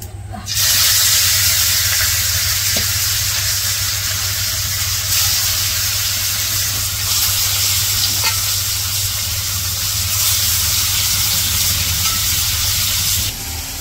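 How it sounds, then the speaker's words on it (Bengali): Koi fish fry in hot oil in a kadai in a Bangladeshi village kitchen, a loud, steady, close hiss of sizzling with a constant low hum underneath. "মাছ ভাজবো, কড়াই তেল দিয়ে দিল।"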